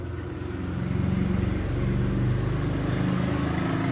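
A 2006 Toyota Altis engine idles steadily nearby, a low even rumble with a faint rhythmic pulse that holds constant throughout, no voices over it.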